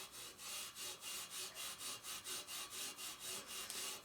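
Steel wool scrubbing corrosion and patina off a nearly 90-year-old vintage bicycle wheel rim: a rhythmic back-and-forth rasping, about four strokes per second, steady and fairly quiet, with no voices.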